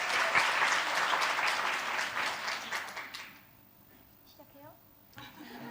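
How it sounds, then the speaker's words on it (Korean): A church congregation applauds during a Sunday worship service, a few seconds of dense clapping that tapers off, followed by quiet room sound and a voice. "박수로 환영합니다"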